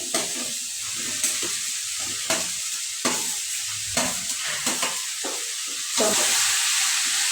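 Garlic, ginger and tomato frying in a pan for paneer masala, a loud steady sizzling hiss punctuated by regular stirring scrapes roughly every second, swelling brighter near the end.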